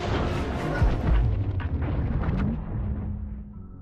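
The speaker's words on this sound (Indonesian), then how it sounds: "kapal tersebut meledak" A ship explodes in a film with a deep booming blast that rumbles and roars, followed by a dying rumble and a low tone as it fades out.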